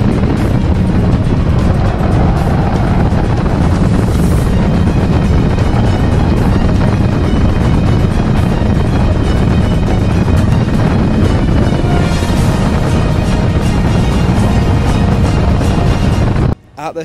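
A stock car roars around a racewall oval track during a race, a loud sustained engine blare mixed with heavy wind buffeting from the car. The noise stays continuous at full volume until it cuts off abruptly at the end.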